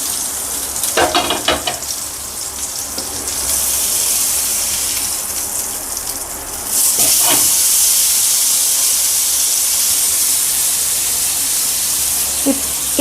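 Brinjal for a crispy garlic fry cooks in a covered pan on a medium flame, a steady loud sizzle and steamy hiss with occasional clatter from the lid or pan.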